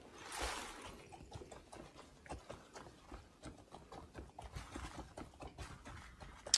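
Horse hooves clip-clopping in a steady run of soft, evenly spaced beats within a video game, heard fairly close amid light background noise.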